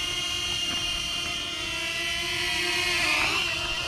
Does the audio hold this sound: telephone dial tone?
no